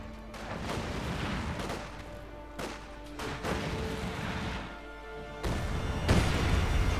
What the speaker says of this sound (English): Heavy Mortar's actually doing some damage there